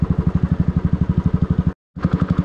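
A heavy, luggage-loaded motorcycle stuck on an off-road track near Pangong Lake in Ladakh chugs close and loud in a steady, rapid thumping rhythm, briefly dropping out before resuming.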